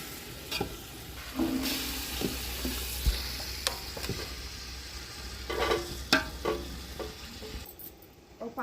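Spoon scraping and knocking around a pot of chicken curry with added masala water over a low simmering sizzle, irregular stirring strokes, close and fairly quiet.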